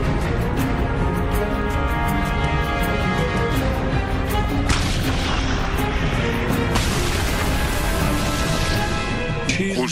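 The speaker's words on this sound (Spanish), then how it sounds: "Justo después disparé y explotó." Tank gunfire and explosions in a World War II tank battle at Kursk, a dense, continuous roar of booms and crashes with sharp bursts near the middle and end, loud throughout.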